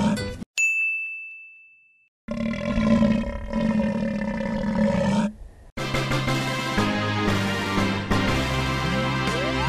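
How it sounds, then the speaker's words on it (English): A loud, drawn-out burp that sounds like a lion's roar rumbles for a few seconds after a sharp ding, then gives way to music, with no talking. "That was like a lion roar burp."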